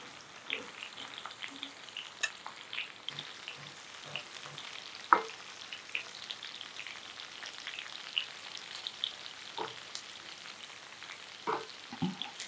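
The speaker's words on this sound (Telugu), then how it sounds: "ఇలాగ కొంచెం తిప్పుకుంటే ఒకటి కొంచెం అడుగున వేగి ఉంటాయి కదా, మళ్ళీ మనకి ఇదిగా ఉంటాయన్నమాట. అందుకని ఇవన్నీ మళ్ళీ మనం తిరగేసుకోవాలి." Sliced okra fries in a pan while being stirred, giving a soft, steady sizzle broken by scattered scraping clicks and stirring taps, close and unaccompanied by talk.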